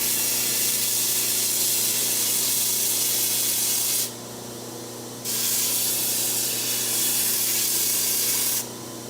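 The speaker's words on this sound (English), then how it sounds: "I'm going to blend everything in on the slack belt of my grinder" A belt grinder runs its slack belt over Damascus steel woodworking chisels, a loud steady hiss and rasp with a constant motor hum beneath, the grinding sound dropping away and returning twice as the steel is lifted and pressed again.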